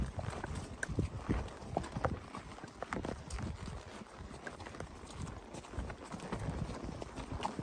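Horse hooves clip-clopping along a downhill trail ride, a steady stream of close, uneven hoof thuds and knocks with soft rustling in between.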